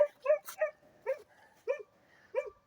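A small dog barks and yips in a quick series of short, sharp calls with brief gaps, close and clear with no talk over it.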